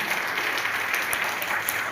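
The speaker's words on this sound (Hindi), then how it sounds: "तो एक जोरदार तालियां इनके लिए होनी चाहिए" Hearty audience applause at a programme honouring its host, a steady wash of many hands clapping at moderate volume, with sharper individual claps popping out here and there.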